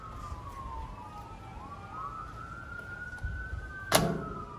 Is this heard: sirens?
yes